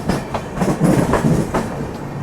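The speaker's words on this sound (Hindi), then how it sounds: "अमृतसर से चलकर हुजूर साहिब नांदेड़ के बीच में चलने वाली सचखंड एक्सप्रेस।" Sachkhand Express, running between Amritsar and Hazur Sahib Nanded, passes close by with a loud, steady rumble and rhythmic clickety-clack of wheels over rail joints, beats recurring roughly every half second.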